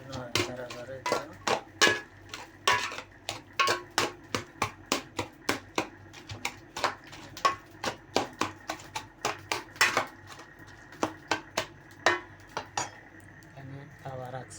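A utensil stirs fish curry in a cooking pot, knocking against the metal in a steady run of sharp, close clinks and taps that continue throughout with short pauses between strokes.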